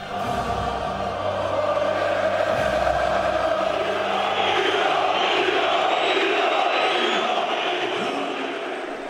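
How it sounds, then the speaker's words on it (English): A large football crowd roars continuously inside a Balkan stadium, a dense, loud wall of chanting and shouting that holds steady throughout, swelling slightly in the second half. "Inside the ground, the crowd were coming to the boil."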